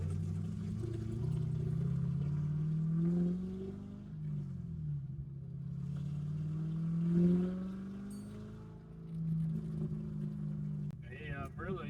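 A C6 Corvette drift car with an LS engine, stock throttle body and Haltech Rebel setup, driving with a steady mid-range engine drone that rises and falls in pitch, with people talking over it.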